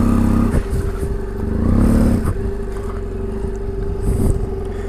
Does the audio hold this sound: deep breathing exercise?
no